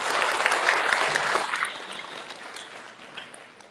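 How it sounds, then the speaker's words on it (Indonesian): An audience at an Islamic gathering gives applause for Mas Ipo, a burst of clapping loudest at the start that fades steadily over a few seconds into quiet. "Tepuk tangan untuk Mas Ipo."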